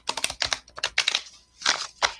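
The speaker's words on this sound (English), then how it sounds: "Sticky old cards. I can actually shuffle very well." Sticky old angel cards are shuffled by hand, giving crisp close riffling bursts in quick irregular clusters with brief gaps, clattering like rapid tapping.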